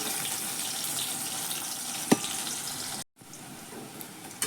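Onion roasts in a pan for a simple brinjal-potato curry, a steady soft frying hiss with one sharp click partway through and a brief break in the sound.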